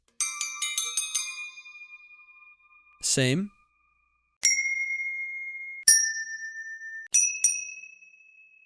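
A series of AI-generated ding sound effects: bright, clean chime tones ringing out one after another with long sustained decays, separated by a short burst of voice in between.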